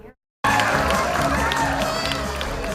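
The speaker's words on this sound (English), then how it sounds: "lots of cheering at the end of the night from his supporters" Supporters cheer and shout in a crowded room at a primary election night event, a loud, sustained roar of voices that bursts in abruptly after a brief silence and holds steady to the end.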